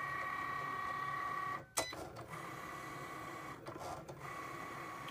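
A Cricut cutting machine cuts out a box template with a quiet, steady mechanical whir and hum, broken by a few short clicks and shifts of the carriage.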